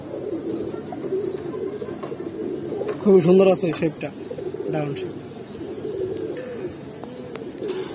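Giribaz pigeons coo in a low, steady, rolling murmur close by, while someone speaks briefly over them midway.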